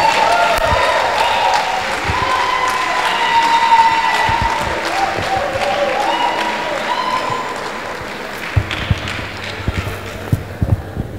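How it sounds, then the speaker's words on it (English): Audience applause at a university inaugural lecture in a large hall, a dense, sustained wash of clapping that gradually thins toward the end, with a few louder individual claps near the close. "A round of applause for them as they come forward, please."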